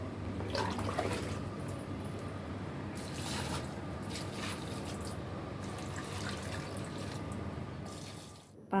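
Water pours steadily from a tap or hose onto dried, wilted potted plants, a continuous splashing and trickling with a few brighter surges, fading out just before the end.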